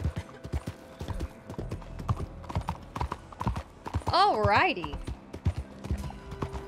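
A horse in Red Dead Redemption 2 trots with steady clip-clop hoofbeats, then lets out a brief whinny midway, close and clear while someone talks over it.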